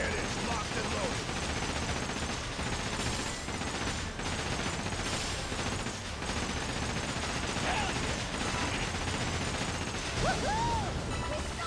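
Ship cannons fire in a dense barrage during a naval battle in Like a Dragon: Pirate Yakuza, a continuous clatter of booms and crashes under game music and voices.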